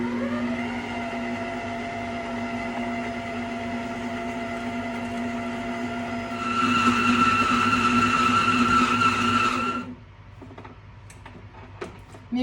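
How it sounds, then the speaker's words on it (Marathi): A stand mixer kneads jowar flour dough with hot water, its motor giving a steady whirring hum that grows louder and busier partway through, then stops abruptly, leaving faint clicks and handling noises. "तर आता मी हे स्टँड मिक्सरवरती लावते"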